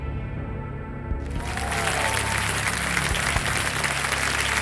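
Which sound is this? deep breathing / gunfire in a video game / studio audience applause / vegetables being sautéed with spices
studio audience applause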